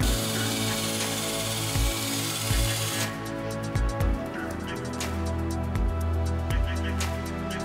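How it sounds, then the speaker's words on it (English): A power drill with a cleaning attachment scrubs hard water stains, a continuous whirring hum that shifts in tone partway through, with rhythmic scraping bursts and no talking. "Get one of those drill attachments and you're done."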